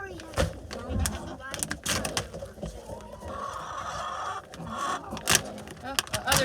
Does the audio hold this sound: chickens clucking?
yes